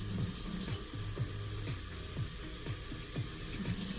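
Water runs steadily from a tap into a bowl, about 500 ml poured for Nissin Top Ramen Hot Pot Fusions Thai Coconut Curry Chicken instant noodles, a continuous close splashing flow with no talking.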